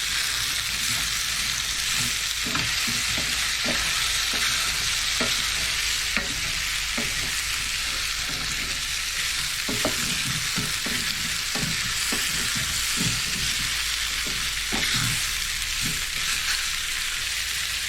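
Beef and small whole red onions fry in a hot pan, a constant loud sizzle running throughout while a utensil stirs and scrapes the pan in frequent clattering strokes, with no voices.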